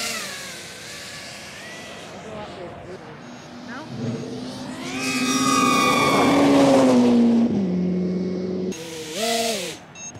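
A Ferrari F8 sports car roars past with a rising then falling engine pitch, loud at its peak, while people talk over it and a drone-like whine sits in the background.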